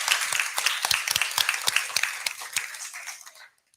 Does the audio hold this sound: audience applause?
yes